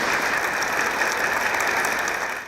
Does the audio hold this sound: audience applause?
yes